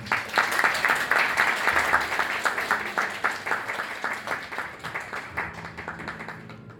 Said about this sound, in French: On l'applaudit encore une fois, s'il vous plaît.